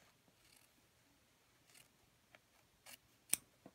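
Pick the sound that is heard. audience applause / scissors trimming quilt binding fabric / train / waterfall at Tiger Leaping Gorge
scissors trimming quilt binding fabric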